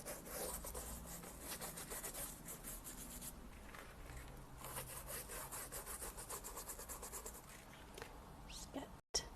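A wet brush scrubs hard against shoe leather during a shoe shine, giving steady, rapid back-and-forth bristle rubbing that carries on close up and alone for most of the clip, with a brief gap near the end.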